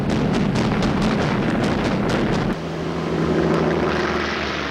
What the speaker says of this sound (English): the Japanese carriers were attacked by US bombers